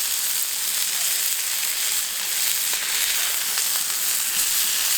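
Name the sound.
lamb shawarma kebab burgers sizzling on BBQ plancha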